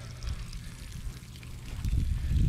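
Water drains and trickles out of a leaking kayak hull, a soft uneven gurgle that grows heavier and louder toward the end, with no talking.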